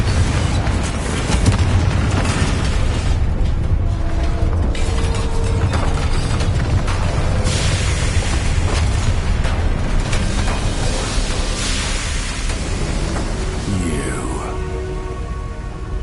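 Confringo fire spell cast in the video game Hogwarts Legacy, a loud, dense rumble of blasts and clanking mechanisms over a full game soundscape, with a character's voice briefly heard.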